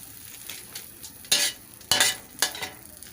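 Garlic sizzles in a pan while a utensil stirs and scrapes it, three sharp, loud bursts of frying noise rising over a quieter continuous hiss, close by.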